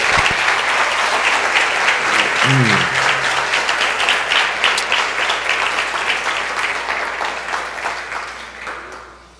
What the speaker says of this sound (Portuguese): Pode aplaudir e glorificar o nome do Senhor.